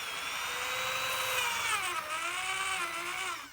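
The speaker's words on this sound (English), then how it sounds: "Start a little pilot hole." Hand drill with a twist bit starting a small pilot hole, a steady close grinding whir whose pitch wavers and dips midway, heard alone without talk.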